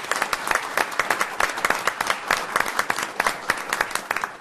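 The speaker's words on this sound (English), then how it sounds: "we're going to show our appreciation first with a round of applause for you guys" Audience at a city council meeting in Amarillo applauding, a dense, even round of many hands clapping steadily at close range with no talking over it.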